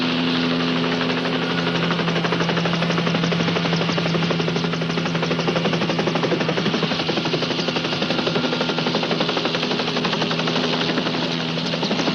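A helicopter is heard in flight in a Highway Patrol police drama. The rotor beat is loud, steady and pulsing, with engine roar. It goes on without a break and dominates throughout.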